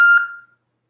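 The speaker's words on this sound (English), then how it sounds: "Please leave a message after the tone." A voicemail message beep tone sounds once: a single short, clear electronic beep that rings briefly and fades out within half a second, alone with no talk.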